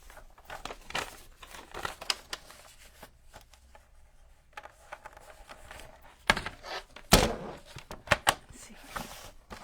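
Handmade journal signature pages being trimmed with a paper trimmer, a series of sharp crisp cuts and rustles of paper handling, with a louder slicing burst near the end amid quieter shuffling.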